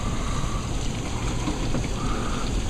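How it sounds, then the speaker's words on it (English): Heavy rain mixed with some hail pours down during a hailstorm, a dense, steady hiss and patter that stays loud and even throughout with no voices. "it's beginning to rain a lot harder. There's still some hail"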